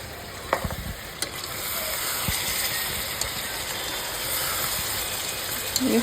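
Chicken and potatoes fry together in a pan with a steady, close sizzle that runs throughout, broken by a few scraping clicks and knocks from stirring.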